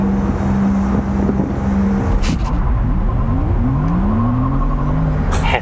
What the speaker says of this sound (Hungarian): a legújabb Porsche Taycan Turbo változata volt, amely 884 lóerővel próbálta felszakítani Kakucs aszfaltját